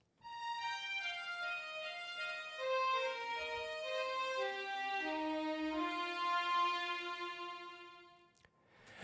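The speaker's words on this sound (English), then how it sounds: "So I layered 3 violin lines together." A quiet solo violin line plays a flowing run of sustained notes, stepping downward in an arpeggio-like pattern with no voices.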